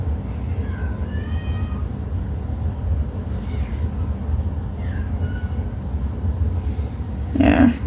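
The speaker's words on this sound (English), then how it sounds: "you can hear one of the other cats that's in my house" A house cat indoors gives a few faint, short meows spread across a steady low rumble, followed by a brief louder noise at the end.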